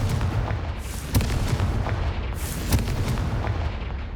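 A Confringo explosive spell goes off in Hogwarts Legacy, a loud, dense rumble of blasts with sharp cracks near the start and again later, heavy and close, with no voices.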